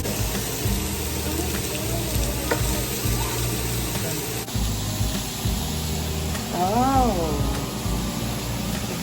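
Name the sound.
pork chops frying in a hot pan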